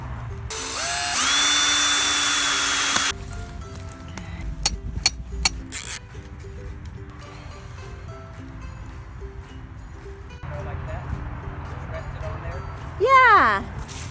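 A power drill drives a screw through a shim into a wooden garden fence, a loud whining burst near the start followed by clicks and knocks, with a person talking nearby.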